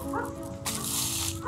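A dog at a house gives a short yip or whimper, close and moderately loud, in a brief burst lasting about a second.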